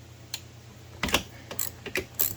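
A socket wrench with a swivel joint makes quick ratcheting clicks on a Honda Elite 110 scooter spark plug, in brief irregular bursts heard up close.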